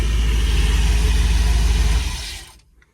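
A cold-started motorhome engine idles loud and close with a steady low rumble, then cuts off near the end, leaving quiet.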